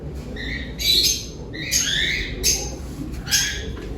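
Blue bar pigeons in a loft giving short squawking calls in a few separate bursts over a low background hum, near and moderately loud.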